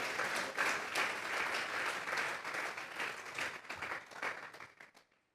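A church congregation gives an offering of applause to God during a sermon, a dense, lively clapping with faint rhythmic accents that carries on steadily before cutting off abruptly.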